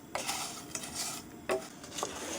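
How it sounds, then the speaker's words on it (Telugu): Jaggery syrup being stirred in a pan for horse gram laddu: faint scraping and clinking of a utensil against the pan in brief irregular strokes, with a soft bubbling hiss underneath. "మనం అలా కలుపుకుంటూనే ఉండాలి పాకం వచ్చే వరకు."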